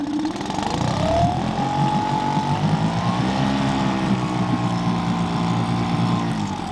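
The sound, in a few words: Tohatsu 20hp EFI outboard motor revving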